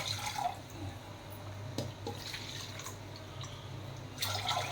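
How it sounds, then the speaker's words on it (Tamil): Water goes into a pressure cooker over rice, with a soft running trickle and a few splashing drips close by. Several brighter splashes come near the start and end, with no talk. "முதல்ல அரிசியை போட்டுட்டு நம்ம தண்ணியை ஊற்றிக்கிறோம்."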